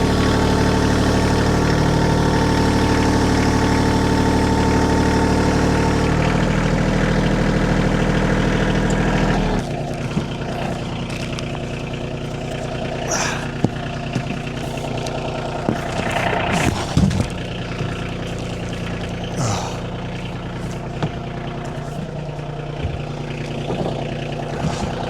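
A tractor engine idles loudly and close for the whole stretch. Its low rumble shifts about a third of the way in, then runs at a lower, steady idle under scattered clunks and knocks, at an off-grid cabin.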